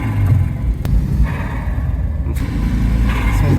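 A 1993 Subaru Legacy Turbo engine rumbles nearby with deep low growling, rising briefly as it revs, with a couple of sharp clicks.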